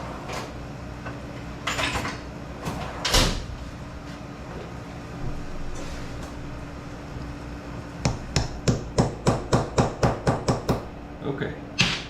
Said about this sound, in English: There's my tiny hammer.